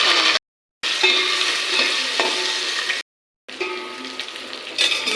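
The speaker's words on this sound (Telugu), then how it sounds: "గరం మసాలా, జీలకర్ర అవి వేగిన తర్వాత ఉల్లిపాయ పచ్చిమిరపకాయలు వేస్తానండి." Onions and green chillies frying in a pan with garam masala and cumin for veg biryani, a loud close sizzle under stirring, broken by two short silent gaps.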